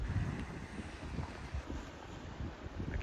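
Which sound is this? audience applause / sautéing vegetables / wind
wind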